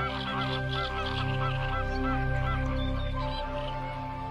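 A flock of flamingos in the Ria Formosa honks and gabbles loudly during a courtship display, many overlapping goose-like calls forming a dense, continuous chorus.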